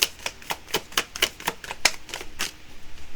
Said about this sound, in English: We are not taking 100 cards, so we'll shuffle again.